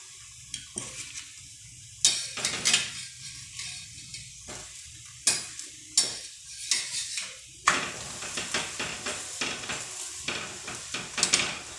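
Semolina flatbread frying in oil in a pan, a sizzling hiss under repeated clattering spatula and pan knocks that come in irregular bursts throughout.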